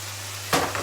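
Spices and spinach dropped into a hot pan for a stuffed chicken breast dish, a faint hum giving way to a sudden loud sizzle that keeps crackling steadily to the end.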